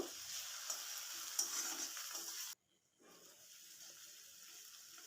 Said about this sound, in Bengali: এখন রসুন বাটাটা দিয়ে একটু ভেজে নেব